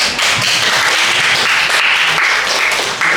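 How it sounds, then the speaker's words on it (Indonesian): Audience applause at a school ranking announcement: dense, continuous clapping close by, sustained evenly for a few seconds with no talk over it. "Kita berikan tepuk tangan."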